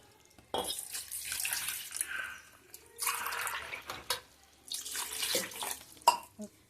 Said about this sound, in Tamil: ஒரு கிளாஸ் தண்ணி ஊற்றிருக்கோம். இன்னும் 2 கிளாஸ் தண்ணி ஊற்றிக்கிடுவோம்.